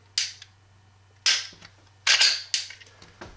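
Dry firing a Glock .45 ACP pistol: four crisp, close clicks of the trigger breaking and resetting, spaced about a second apart, over a low background hum.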